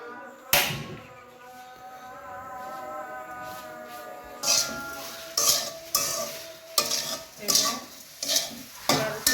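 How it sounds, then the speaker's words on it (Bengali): Grated coconut and sugar being stirred in a pan on a stove for kuli pitha, with rhythmic scraping strokes of a spoon that grow louder and come in quick regular bursts over a low hiss. "দিয়ে নারকেল আর চিনি নেড়ে ছেড়ে নেব।"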